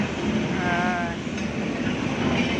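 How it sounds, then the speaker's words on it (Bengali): A large train rolls past close by after rain, a loud, steady rumble and rush with a brief high metallic squeal partway through. "একটা রেল যাচ্ছে বিশাল বড় একটা রেল"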